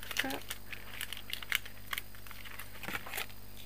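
Paper box for a mini Nutella jar being folded and its creases pressed, producing close, crisp crinkles and sharp taps in irregular bursts under a quiet background hum.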